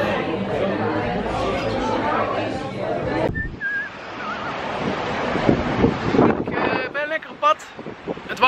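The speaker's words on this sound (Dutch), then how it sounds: "Het waait hard" Strong wind gusting outdoors, a roaring, rumbling rush across the whole clip that swells and buffets the microphone, with people talking over it.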